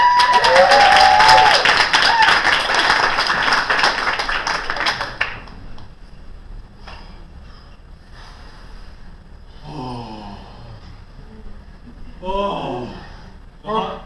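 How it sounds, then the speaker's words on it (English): Audience at an improv comedy show breaks into loud, sustained applause and clapping for about five seconds, then it stops and a voice carries on talking. "Let's give them a round of applause."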